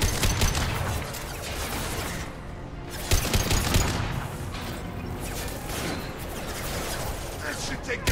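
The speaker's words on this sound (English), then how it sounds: "Firing now." Dense, sustained gunfire from the Mass Effect video game, rapid bursts and explosive booms running throughout, with a brief lull midway before firing resumes at a steady, loud level, with some voice mixed in.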